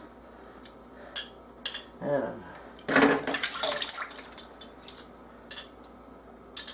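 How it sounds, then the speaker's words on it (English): Wet glass canning jars, wide-mouth and regular-mouth, set down and stacked on top of each other to drain after washing, making a few light clinks and knocks with dripping water while a voice speaks briefly. "I lay them like so, right on top of each other. Wide mouth, small mouth."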